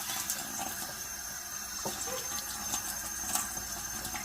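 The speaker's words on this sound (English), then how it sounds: "Give it a good rinse" A cast iron pan is rinsed under running tap water, a steady close hiss of flowing water with small clinks as the pan shifts in the stream, no voices.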